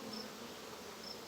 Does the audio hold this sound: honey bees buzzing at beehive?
yes